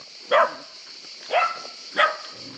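Three separate barks from a dog at a moderate distance on a mountain road, spaced about a second apart, over a steady background hum.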